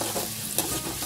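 Onions fry in a pan with a continuous hissing sizzle, brief scrapes and clinks of stirring over it, close and steady throughout.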